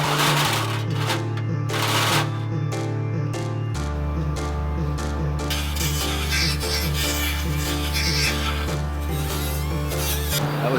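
A Milwaukee battery power drill whines steadily as it bores a hole, its motor pitch dropping partway as the bit bites harder, with grinding rasp throughout.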